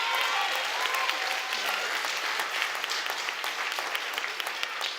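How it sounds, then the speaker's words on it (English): Graduation audience at a college commencement ceremony applauding, a dense, steady wash of many hands clapping that stays loud throughout and slowly eases off toward the end. "Give her another round of applause."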